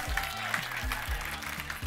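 An audience at an improv match applauds in a steady wash of clapping, with faint musical tones mixed in.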